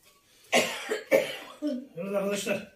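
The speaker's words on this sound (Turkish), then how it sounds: "Öksürüyorsun ya." A person coughs a few times in quick bursts indoors, close by, mixed with brief voiced throat sounds near the end.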